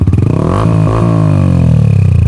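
Yamaha R15m motorcycle with a full-system muffler fitted and no silencer, revved once: a loud, raw engine roar rising and falling in pitch, close by, with no talk over it.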